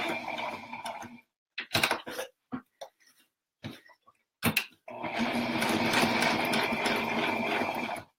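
A sewing machine stitches a slouchy toy sack, running in a short burst, stopping for scattered bumps and handling noises, then whirring steadily and close for the last few seconds.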